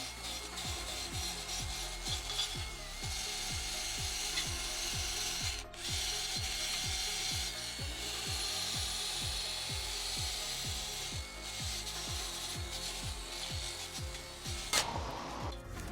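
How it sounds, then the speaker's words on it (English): Hand cleaning of a Range Rover Sport L494 brake hub surface during a brake change: close, rhythmic rasping and scraping strokes repeat steadily throughout, with no talking. "just want to clean up the hub round here because we want to make sure this disc sits perfectly flat"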